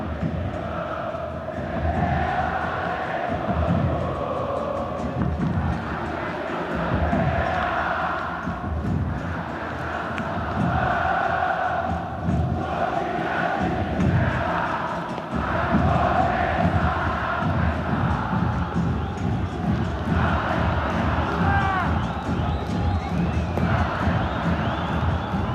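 Internacional supporters sing together in a rainy stadium during a 2013 Brasileirão match against Vasco, a dense, sustained crowd chant that rolls on continuously and fills the space.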